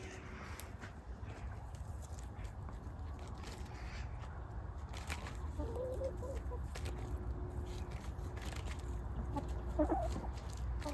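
Chickens cluck and a rooster crows faintly in the distance over a steady outdoor background hum.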